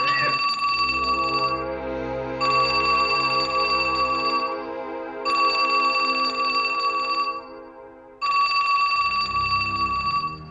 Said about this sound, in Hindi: ये टेलीफोन की आवाज